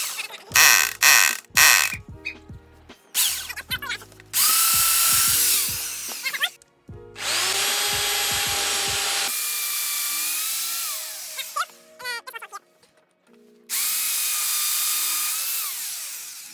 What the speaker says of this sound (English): I'm going to drill two, one here, one in the middle and one at the end, about that deep into the wood